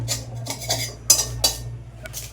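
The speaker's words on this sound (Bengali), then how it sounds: "লঙ্কাটা একটু আমি খুঁজির সাহায্যে এরকমভাবে কেটে নিচ্ছি" Metal spatula scraping and clinking against a hot wok while chillies are cut, several sharp irregular scrapes and taps over a steady low hum, close and clear.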